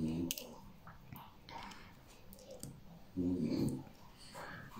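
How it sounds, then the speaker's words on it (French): Dogs indoors make scattered whimpers, snuffles and small growling noises, with faint clicks between, fairly quiet and close, no talking over them. "Donc là, vous devez entendre mes chiens faire du bruit."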